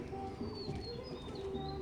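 Oman blood line teddy pigeons cooing softly in a loft, low repeated coos with faint chirps in the background, quiet and without speech.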